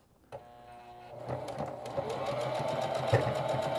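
A sewing machine stitching a T-shirt sleeve hem starts with a click, then runs in a steady, fast mechanical whir that builds and continues at close range, quiet overall.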